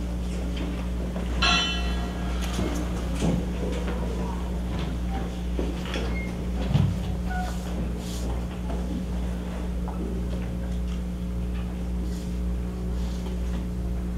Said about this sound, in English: accompanied by Lieutenant Steve Fidel of the Big Spring Fire Department with the bell ceremony